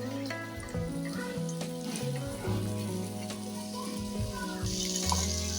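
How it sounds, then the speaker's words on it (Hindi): Small-chopped potatoes sautéing in hot oil in a kadhai, a soft steady sizzle under a tonal background hum, with faint stirring scrapes. "अब इन आलूओं को हल्का सा हमने सौते कर लेना है"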